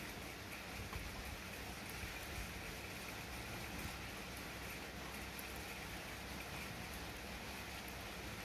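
Heavy summer storm rain in Adelaide pours down in an even, unbroken wash of noise, moderately quiet and steady across the whole stretch.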